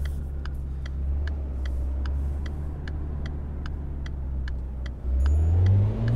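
A Volkswagen Golf GTI engine in the driving game City Car Driving, idling steadily under a regular ticking indicator-like click, then rising in pitch and loudness as the car pulls away near the end.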